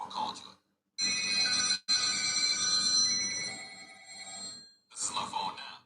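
A phone rings with a bright, harmonic ringtone that sounds steadily for a few seconds, bracketed by short bursts of other sound at the start and end.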